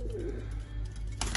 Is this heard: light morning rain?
no